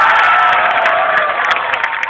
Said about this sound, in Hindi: और तालियां तो उठेंगी